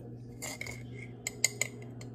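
A spoon clinks against the inside of a cup while stirring in three spoonfuls of sugar, making several bright, ringing taps over a low background hum, close by and with no talking.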